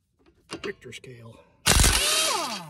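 A brief voice comes first, then an impact wrench bursts in loudly on a strut nut during a Monroe front strut job on a Honda Element, a harsh, rattling buzz sustained for about a second until the end.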